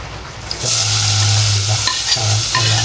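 Garlic hits hot oil in a home kitchen with a sudden loud sizzle after a quiet start. The crackling spit then carries on steadily, with a spatula scraping and stirring the pan in several nearby strokes.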